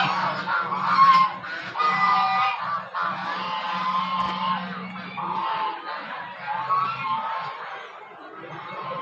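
Large geese honk repeatedly at an outdoor gurukul site in Surat, a dense flock calling over one another in loud, overlapping cries with a steady low hum beneath.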